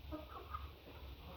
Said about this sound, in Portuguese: Aqui estão os pintinhos GSB.